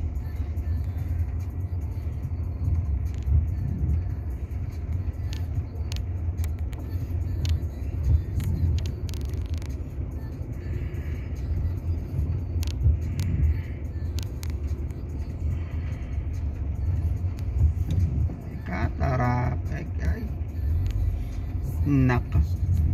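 Road traffic in Gaborone, Botswana, with cars and buses: a steady low rumble of engines and passing vehicles runs throughout, with people talking over it and a brief horn-like tone near the end.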